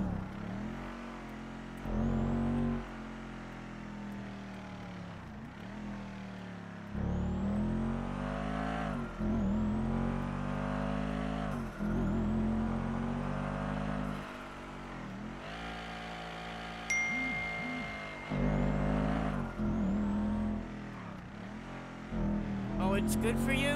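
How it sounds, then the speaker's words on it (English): A video game car engine revs loudly and repeatedly, rising and falling in long surges with gear-change drops, close and dominant, with a voice talking underneath. "You hear how loud this car is?"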